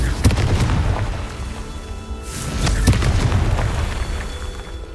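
A fiery Confringo spell explosion in Hogwarts Legacy goes off as a heavy booming burst, followed by rumbling crackle and a second strong blast partway through, loud and close with no talking.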